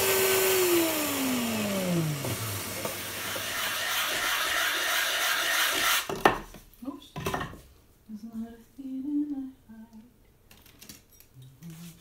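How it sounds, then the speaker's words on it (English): A Triton mini router with a routing bit cuts binding channels in a guitar body, a loud broadband whine filling the first six seconds with a falling pitch sweep as the motor spins down, followed by clattering handling sounds and speech. "with a routing bit for the binding channels and the Triton router, the mini router"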